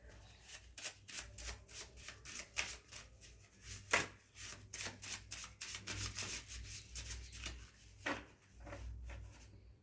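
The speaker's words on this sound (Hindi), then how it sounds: "चलिए मैं दोबारा शफल करती हूँ।" Tarot cards are shuffled by hand in quick rhythmic bursts of riffling and rubbing, close and steady for several seconds, with a few louder slaps and no talking.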